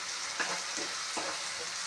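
Eggs scrambled with chopped banana flower fry in a pan, a steady close sizzle broken by a few soft scrapes of a spatula stirring the mixture, with no talking.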